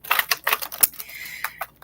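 Tarot cards being shuffled by hand, a quick run of crisp papery riffles and taps, close and fairly loud, with a brief sliding rasp near the end.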